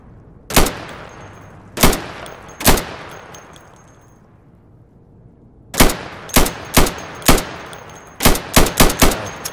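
Gunfire from a primary weapon on an Insurgency training range, plywood targets: three sharp, loud shots spaced about a second apart, a quiet pause, then a faster run of eight closely spaced shots, each with a short ringing tail.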